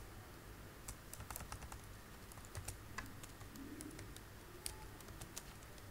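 Code is typed on a computer keyboard in a quiet room, a run of soft, irregular key clicks with a faint cooing bird in the background.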